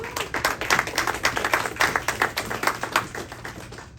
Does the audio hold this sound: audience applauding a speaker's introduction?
yes